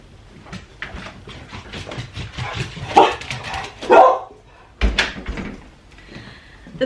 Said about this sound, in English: Oh, Teeny's gonna bark because Kyle's here.